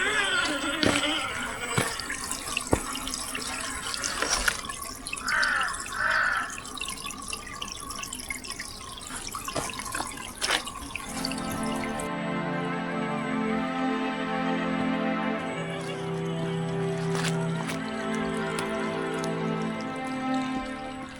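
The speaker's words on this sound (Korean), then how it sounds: "아차산 냇물 소리 한번 들어볼까요?" Water from a mountain stream on Achasan, running low after rain, trickles and drips steadily. Irregular splashes and gurgles continue throughout, close and moderately loud, and the sound becomes more tonal and bubbly in the second half.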